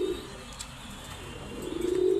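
Domestic pigeons or doves coo steadily nearby, a soft low throaty call that swells into a rapid pulsing burst toward the end, with faint chirps overhead.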